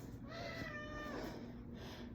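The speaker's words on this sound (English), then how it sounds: "That's my kitty cat." A pet cat meows, giving one drawn-out, rising and falling meow near the source, over faint room noise.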